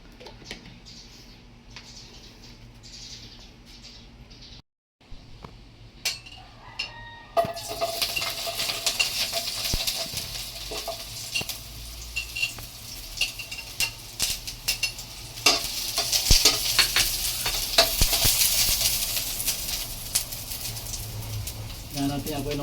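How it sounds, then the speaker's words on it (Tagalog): Garlic fried rice (sinangag) being stirred and fried in a pan, a sizzle that swells into a busy crackle with scraping stirs and utensil clinks, while people talk over it. "Ito ang magluluto ng sinangan."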